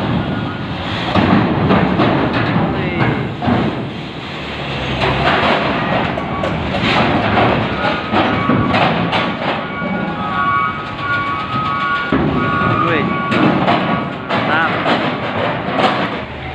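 A trailer truck loaded with steel drives up onto a ship, its heavy engine rumbling and clattering steadily over metal ramps for the whole stretch, loud and near, with busy background noise and a few brief clanks.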